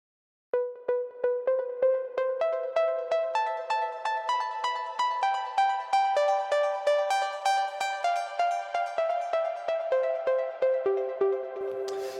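A bright synth pluck from the Diva plugin, used as the main pluck for a track, plays a steady stepping melody. Crisp short notes repeat in an even rhythm and build gradually in brightness, clear and alone.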